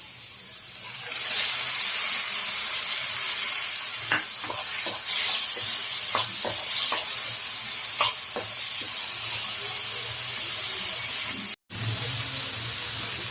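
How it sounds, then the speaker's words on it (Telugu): Tomatoes fry in a pan with curry leaves, a steady close sizzle with scattered crackles and pops throughout and one brief dropout near the end. "టమాటా వేసినాం కదండి, అది కూడా కొంచెం ఫ్రై అయిందండి"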